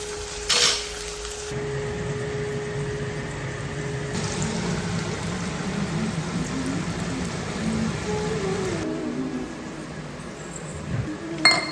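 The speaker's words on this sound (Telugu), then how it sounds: "కాకరకాయ సో దీన్ని బాగా వేగనిద్దాం" Bitter gourd (kakarakaya) frying in a pan, a steady hiss and crackle of oil with occasional utensil clinks and scraping, fairly close and continuous.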